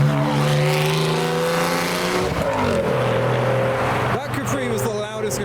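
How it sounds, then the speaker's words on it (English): A loud Ford Capri roars past close by at a car meet, engine droning with rising and falling pitch as it goes by, followed by background crowd talk. "That Capri was the loudest Capri I've ever heard."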